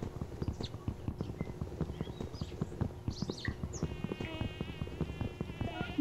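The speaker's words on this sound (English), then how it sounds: "It's also bees and flies, and they're gonna just piss me right off. I have to sit here and listen to them buzz in my ear" Bees and flies buzzing in a video game, a thin insect whine rising over steady, rhythmic clip-clop hoofbeats that run throughout, with the buzz more noticeable in the second half.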